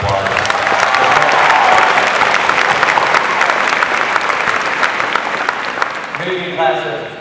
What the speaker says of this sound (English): Can you just give them a round of applause?